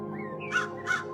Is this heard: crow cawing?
yes